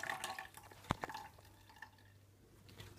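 Sesame milk drips from a wrung-out bag into a container, a few soft irregular drops with one sharper plop, quiet against a low background hum.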